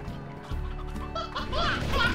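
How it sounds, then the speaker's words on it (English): A hen in the video game Slime Rancher clucks in quick, fowl-like bursts that grow busier toward the end, with a voice faintly mixed in. "Damn it, there goes the hen."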